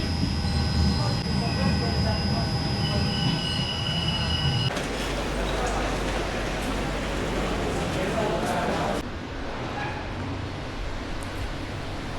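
Train rolling on rails between Rome and Foligno, heard from inside the carriage as a steady loud rumble with squealing wheels and a constant hum, with a shift in tone partway through.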